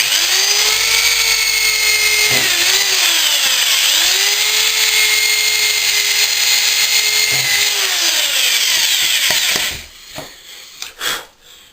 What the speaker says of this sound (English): I'll actually drill a couple of holes in these too.